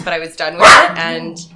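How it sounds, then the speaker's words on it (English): A pet dog gives one short excited bark in the middle of a man's speech, close to the microphone and louder than the voice. "That's my dog."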